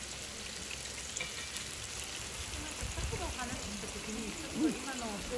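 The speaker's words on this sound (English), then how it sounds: "Cooking the mushrooms in butter is also quite popular and delicious." Freshly picked Japanese mushrooms fry in butter as butter yaki, with a continuous soft sizzle and crackle heard close by and faint voices talking in the background.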